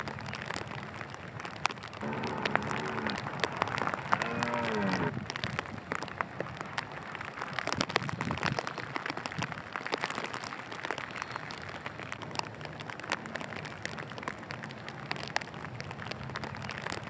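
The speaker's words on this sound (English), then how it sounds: "I made use of the rain on the small pond too." Rain falls steadily on a small pond, a continuous hiss with dense pattering drops, fairly quiet and constant throughout, with a brief bird-like call early on.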